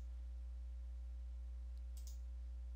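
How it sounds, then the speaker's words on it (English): A computer mouse gives a quick pair of faint clicks as the Windows 10 Start button is right-clicked, set over a steady low electrical hum. "we're going to start by right-clicking on the Start button."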